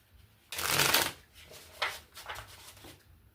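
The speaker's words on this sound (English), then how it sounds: "Please, one more shuffle." Tarot cards being shuffled, a loud riffling burst followed by several softer shuffling bursts, close up with no talk.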